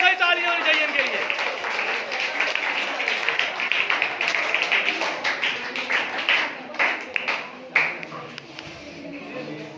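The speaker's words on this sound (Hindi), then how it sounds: "बहुत सारी तालियां होनी चाहिए इनके लिए।" Sustained applause for a quiz participant at a school quiz program, many hands clapping densely and loudly for the full stretch, with voices talking over the clapping.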